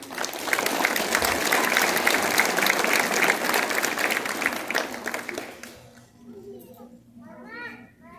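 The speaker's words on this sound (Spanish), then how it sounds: "Fuerte los aplausos, por favor." Loud, dense applause from a concert audience at a Laxopa macro concert in 2024, sustained for about five seconds before fading into scattered claps and children's voices.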